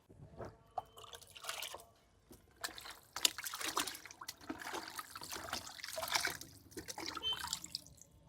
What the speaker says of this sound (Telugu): కొంచెం వాటర్ పోద్దాం